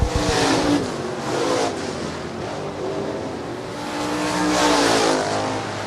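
Stock cars racing at Shelby County Speedway roar past in a steady, loud wash of engine noise that swells near the start, dips, then builds again toward the end, with no talk.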